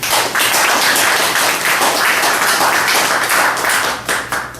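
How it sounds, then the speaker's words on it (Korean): Enthusiastic applause at a Korean university graduate-program ceremony honoring a student who earned a public administration degree, dense loud clapping from a crowd sustained throughout and tapering slightly at the end. "세 번째 힘찬 축하와 격려의 박수 부탁드립니다"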